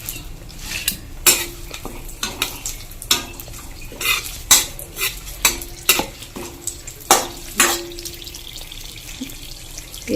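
Dried red chillies and bay leaves crackle in hot mustard oil in a wok while a metal spoon knocks and scrapes against the pan in repeated sharp clanks over a soft sizzle.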